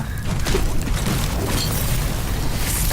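Explosions and gunfire from an Overwatch match, a dense, loud and continuous barrage of booms and bursts with a heavy low end and no clear pauses.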